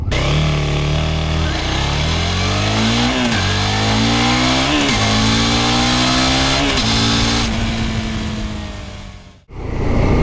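Suzuki SV650 motorcycle with aftermarket exhaust accelerating hard through several gears, its engine note climbing, dropping at each shift and climbing again, loud and close, ending in a sudden cut-off.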